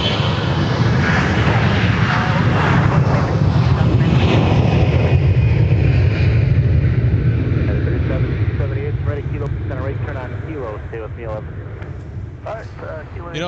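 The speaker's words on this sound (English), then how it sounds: "Here comes Delta 1026 headed to Atlanta." A Delta Airbus A321 airliner bound for Atlanta takes off from a runway at an airport, its loud, steady engine roar filling the air, then easing slightly as the jet climbs away, with people talking over it.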